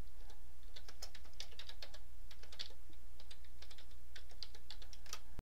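Fingers type rapidly on a computer keyboard while entering spreadsheet macro code, a dense, steady patter of close key clicks with no talk.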